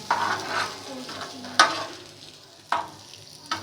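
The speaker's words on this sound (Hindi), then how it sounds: "मिक्स करने के बाद हमने इसे थोड़ा पकाना है।" Spiced potato and lentil burger mixture frying in a pan, a constant sizzle broken by a few sharp spatula scrapes and stirs, close and alone.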